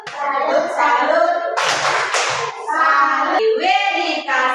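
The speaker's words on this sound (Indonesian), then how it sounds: "Tepuk salut. Tepuk salut." Children chant in unison through a rhythmic classroom clapping routine, sung phrases broken by short bursts of sharp, close claps.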